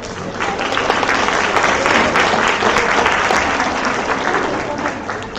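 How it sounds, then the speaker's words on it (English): Steady, full applause fills an award ceremony hall as a large audience claps together for dean's list students, loud and unbroken throughout. "so maybe we'll give them all applause at once."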